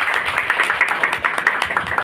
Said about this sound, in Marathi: तर सरांसाठी पुन्हा एकदा जोरात टाळ्या।